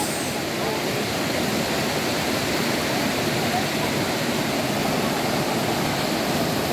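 A strong river current rushes in a broad, steady wash of noise during a family outing, full and unbroken throughout, with no clear speech over it.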